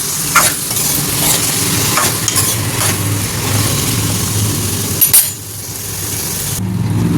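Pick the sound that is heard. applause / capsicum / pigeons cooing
capsicum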